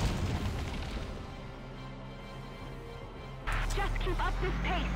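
Heavy cannon blast in the Valkyria Chronicles tactical war game, a deep booming explosion against a dense rumbling battlefield bed, with a second heavy impact near the end.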